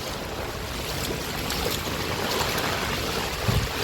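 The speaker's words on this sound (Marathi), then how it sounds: "सकाळपासून अजून पाऊस पडतोय, ढगफुटी झालेली आहे, अजून काय पाऊस थांबलेला नाही। हे बघा जाम दुधडीने पाणी जातं" A cloudburst's heavy monsoon rain and floodwater rushing past at Palande, heard as a steady, dense roar of water and rain that holds close and loud throughout, with no voices.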